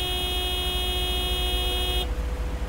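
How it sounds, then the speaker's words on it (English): A car horn in the Lake video game sounds one long, steady, loud honk over an idle hum, then cuts off abruptly, leaving only the quieter background drone. "the honk is going to make him wake up"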